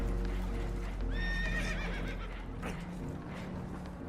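Spooked horses whinny in the video game Red Dead Redemption 2, a single rising neigh over a constant loud rumble of water and boat noise.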